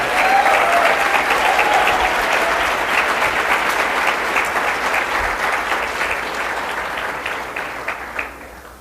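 A large convention crowd applauds loudly and steadily for several seconds, the clapping slowly fading toward the end, with a few shouts mixed in.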